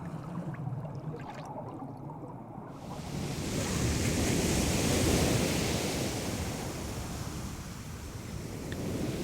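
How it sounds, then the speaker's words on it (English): Ocean waves break on a beach where olive ridley turtles nest, a steady loud wash of surf that swells in the middle and rolls on continuously, with no voices. "The low-frequency vibrations of the waves hitting on the beach can be heard by her beneath the water."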